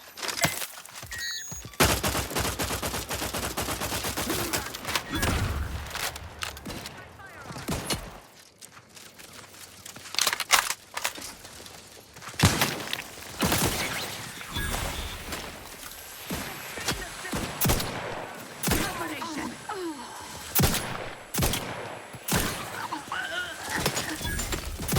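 Rapid bursts of gunfire crackle throughout a firefight in the video game Outer Worlds 2, dense volleys of loud shots with short gaps, mixed with game effects and a voice speaking at times.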